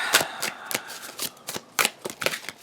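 Tarot cards being shuffled and let fall from the deck, a quick series of crisp riffling flicks and slaps in short bursts, close and clear with no talking.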